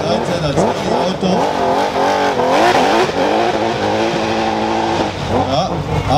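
Race car at the Rossfeld hill climb race accelerating hard up the mountain road, engine revving loudly through rising and shifting gears close by, with a commentator's voice running over it.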